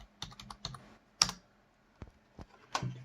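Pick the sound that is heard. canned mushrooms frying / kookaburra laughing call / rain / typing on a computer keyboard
typing on a computer keyboard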